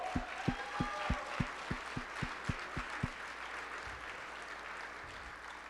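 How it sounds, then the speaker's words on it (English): Faint applause at a celebration launching the Global IP Alliance, a sparse, evenly paced run of distinct claps for about three seconds over a soft hall ambience, then only low room noise. "And let's just give that a round of applause."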